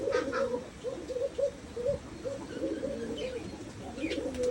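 Pigeons coo in a village loft, a continuous chorus of soft rolling coos from several birds close by with no one speaking.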